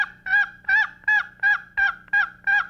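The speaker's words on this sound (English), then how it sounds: "I think just a simple little hen yelp" A turkey call plays a simple hen yelp: seven evenly spaced, loud, raspy two-note yelps in a steady rhythm, close and alone against a faint low hum.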